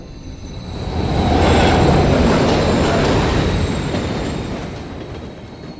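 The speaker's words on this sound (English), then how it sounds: "Another train coming." A train rumbles past in the video game Call of Duty: Modern Warfare III (2023), swelling to a loud, broad roar in the middle and easing off again, with steady wheel and rail noise and no talking.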